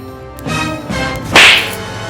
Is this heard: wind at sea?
no